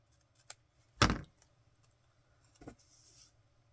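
Scissors trim a strip of tape on a paper craft project: a few sharp, close snips and clicks, with one louder cut and quiet gaps between them.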